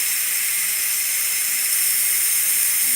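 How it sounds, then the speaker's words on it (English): Steam vents from a Ninja Foodi pressure cooker in a loud, steady, unbroken hiss that lasts the whole moment, close by and with no pauses. "All the steam is coming out now."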